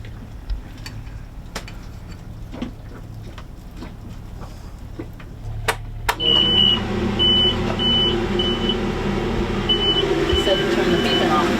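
Faint ticking clicks give way to a series of short, high electronic beeps repeating at irregular intervals over yacht engine rumble and nearby talk.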